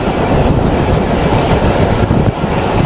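The Mongla Commuter train, hauled by a locomotive, rolls along the rails through wetland country, a loud, close, continuous rumble with rhythmic clatter of wheels over track joints.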